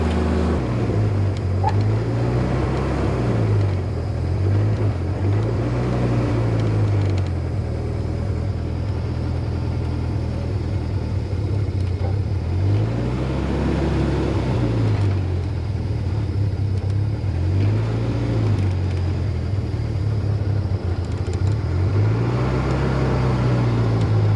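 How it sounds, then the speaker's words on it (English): A Jeep Willys engine runs continuously with a low, loud drone, its pitch rising and falling in slow repeated swells as throttle is added and eased off. "I'm gonna try giving it a little bit more throttle."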